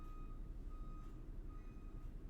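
Faint electronic beeps repeat at an even pace from somewhere outside, like a vehicle reversing alarm, sounding three or four times over a low, steady rumble.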